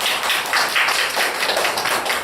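An audience applauds at a degree conferment ceremony in Seoul, with dense, continuous clapping at close range, steady and loud throughout, and no talking over it.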